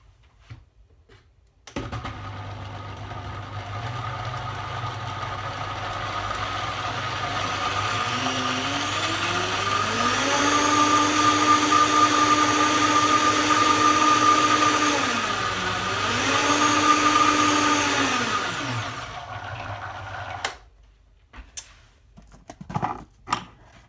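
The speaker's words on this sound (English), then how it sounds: "So now all you need to do in whatever instrument you're using is whiz it up." Blender whizzing basil pesto ingredients: a loud steady motor whine that starts abruptly, rises and dips in pitch as the contents churn, then cuts off, with a few clatters after.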